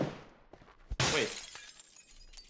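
A window shatters in PUBG, a sharp crash of breaking glass followed by a spray of falling shards that trails off over a second or two, with quieter game noise before and after.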